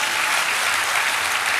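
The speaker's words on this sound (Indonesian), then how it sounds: "Tepuk tangan dong biar saya juga semangat." A church congregation breaks into loud, dense applause, a steady wash of many hands clapping at close range throughout the short moment, with no talk over it.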